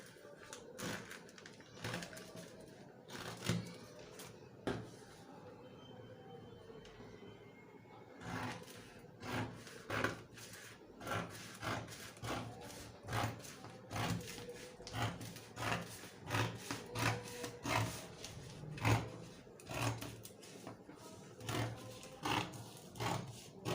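Scissors cutting fabric for a 360-degree flare skirt, a long run of regular crisp snips close by after a quieter stretch, with occasional quiet talk.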